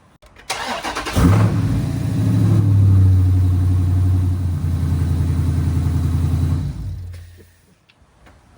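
A car engine cranks and catches after a jump-start from an AVAPOW A68 portable jump starter, then runs at a steady close idle for several seconds before shutting off.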